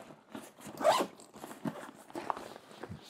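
A zipper on the large front zip pocket of an Able Carry Max or Evergoods CPL28 backpack is pulled in one short, fairly close run, with faint handling rustles around it.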